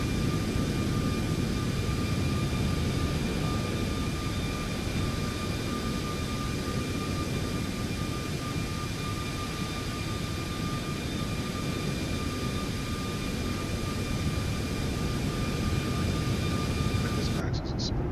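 Boeing 737 Max airliner cabin in flight from Haneda to Nagasaki, a steady broad engine rush with a thin high whine running throughout, even and unbroken, ending with a brief click.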